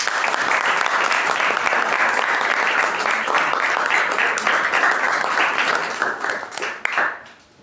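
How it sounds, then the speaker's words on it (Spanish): Audience at a literary café lecture gives a sustained burst of dense applause that stays loud and steady, then thins out and fades in the last second. "podemos despedirlo con un fuerte aplauso"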